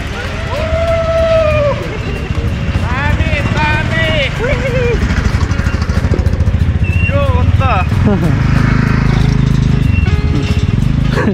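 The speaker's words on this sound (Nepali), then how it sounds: "हाम्रा गाइजहरू बाइक लिएर आइरहेका छन्" Motorcycles arrive with engines droning and revving close by, rising and falling pitch under continuous loud chatter from people talking over them.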